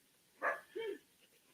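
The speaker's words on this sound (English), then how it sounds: "my dog's decided to have a bark" A pet dog lets out two quick barks in the background at a house building site, the first sharp, the second lower and drawn out, over a faint steady hiss.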